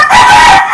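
A frizzle-feathered Polish crested chicken gives a loud, close crow that rises and holds steadily through the short burst before fading slightly at the end.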